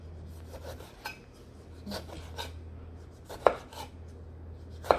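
A knife slices an old Korean cucumber (nogak) on a cutting board for a sweet-and-sour cold salad. Soft, irregular cutting strokes are followed by two sharp knocks, all close and fairly quiet, with no speech.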